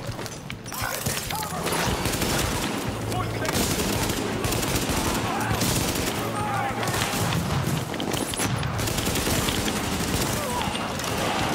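Heavy sustained gunfire in The Division's Russian Embassy mission with a sniper rifle used up close, a dense continuous barrage of shots and battle noise that stays loud for over ten seconds.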